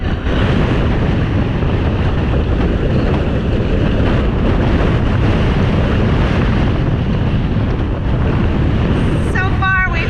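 Strong gusting wind roars steadily across the microphone alongside crashing waves and spray at sea near a jetty, a dense continuous rush from start to finish, with brief speech near the end.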